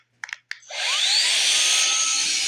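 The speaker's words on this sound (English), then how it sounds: "Can't see it, but trust me, it's blowing air." A GIGA Pump 17 portable air pump switched to blower mode gives a few sharp button clicks, then spins up with a rising whine into a steady, loud, close rush of blowing air. No voices.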